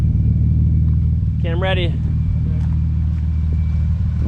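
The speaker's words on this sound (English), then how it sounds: "Ooh, my car's sounding good." A Nissan Skyline's engine rumbles at a steady idle, a deep, close, continuous drone that stays level throughout, with a person speaking briefly over it.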